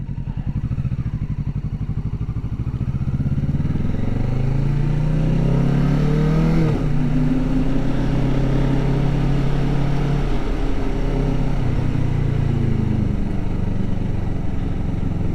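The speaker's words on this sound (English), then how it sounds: "let me show you how I ride the motorcycle now" A motorcycle engine revs loud and close while riding through the gears, its pitch sweeping up and dropping at each shift over a continuous rumbling drone.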